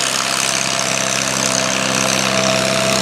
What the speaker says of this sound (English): That 1953 Farmall giving it all she got.